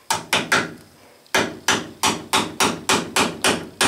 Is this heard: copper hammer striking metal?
yes